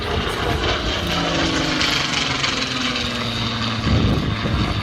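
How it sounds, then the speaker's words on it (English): Supermarine Spitfire, an unarmed photo reconnaissance variant, flying over the Southport Airshow, its propeller engine a steady loud drone throughout with a slight swell near the end and no voices. "Whilst we see the Spitfire now in all its glory, the speed, style and dash and elan"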